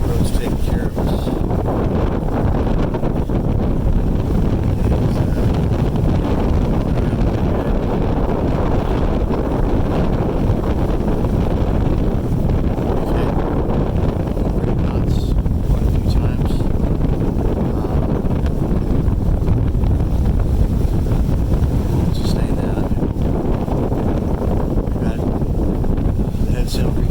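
Constant roaring wind buffets the microphone over churning sea and rushing water from a moving boat, loud and unbroken throughout.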